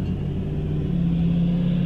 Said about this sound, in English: I'm driving back home from the gym.